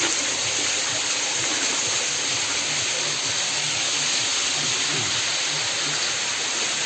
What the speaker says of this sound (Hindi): देखो कितना शानदार पानी आ रहा है ऊपर से